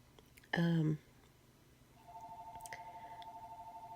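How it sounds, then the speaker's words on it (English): A phone rings with a steady, pulsing electronic tone that starts partway through and continues to the end, after a short loud burst of sound near the start. "Now my phone's ringing."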